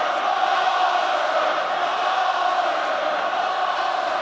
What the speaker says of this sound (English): Now the crowd start to get behind their side.